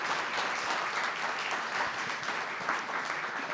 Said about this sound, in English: I'd like you to give a big round of applause to Hitoshi Abe